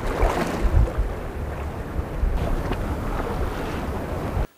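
Steady south wind buffets the microphone by the Black Sea, a continuous rumbling roar with a few louder gusts, no voices, cutting off abruptly at the end.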